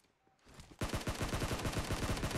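Gunfire in the battle-royale game PUBG: after a quiet start, a loud, sustained burst of rapid automatic shots rings out close by, with the rounds landing in a steady rhythm and no talking.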